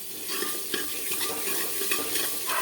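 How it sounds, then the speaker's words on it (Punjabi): Onions salted and frying in a pan give a steady close sizzle with repeated stirring scrapes, no voices. "ਆ ਦੇਖੋ ਆਪਣੇ ਪਿਆਜ਼ ਭੁੰਨ ਹੋ ਰਹੇ ਚੰਗੀ ਤਰ੍ਹਾਂ ਨਾਲ"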